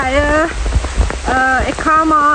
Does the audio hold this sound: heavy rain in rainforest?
yes